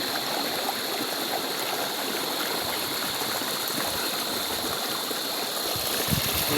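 The Laya River at Candulawan in Talisay City, Cebu, flowing in a steady, close rushing wash of water that continues unbroken throughout, with no voices over it.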